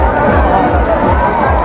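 A huge crowd packs the streets of Varanasi, a dense continuous roar of voices and movement with low rumbling underneath, loud and steady throughout.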